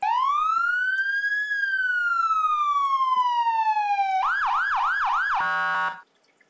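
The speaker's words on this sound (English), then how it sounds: "so let's listen to the siren now" A loud electronic siren sound effect for the game Emergency 4 sweeps up then slowly down in a long wail, then switches to a rapid warbling yelp and a stuttering tone before cutting off.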